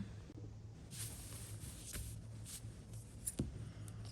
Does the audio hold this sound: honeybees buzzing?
no